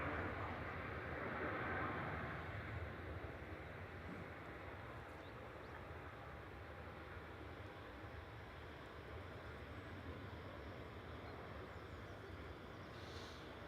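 A Cathay Pacific Airbus A350-900 arriving from Hong Kong at Manchester Airport gives a steady, broad jet roar from some distance that stays even throughout, with no voices.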